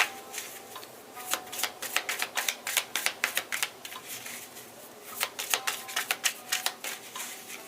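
Rapid crisp riffling of tarot cards being shuffled in several bursts, each a quick run of papery clicks, close and fairly loud.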